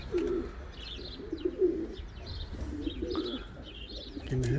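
Pigeons coo and chirp against a busy outdoor background in Leipzig, with soft flutters as the birds take off nearby.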